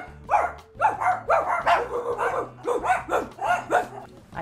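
A human voice imitates a dog barking, giving a rapid run of about a dozen yappy, bark-like yelps in steady rhythm, close and fairly loud, with no other sounds.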